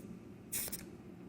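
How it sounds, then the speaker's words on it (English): Tire pressure gauge pressed squarely onto a tire's valve stem, letting out one short, faint psh of air, close and quiet against a low background. "this is what it should sound like when you're checking the tire pressure"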